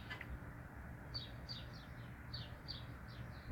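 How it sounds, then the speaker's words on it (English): Several small birds chirp in quick, repeated high notes over a steady low background hum, fairly faint and at a distance. "You hear those birds singing?"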